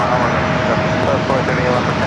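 A Delta Boeing 757 taxis at San Diego airport, a steady, loud jet engine whine and roar holding evenly through a brief moment.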